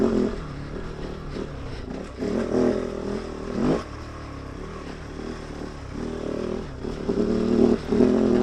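A KOVE 450 Rally motorcycle engine sputters and surges unevenly while riding at low speed with the clutch released, its uneven drone rising and dipping with some clatter.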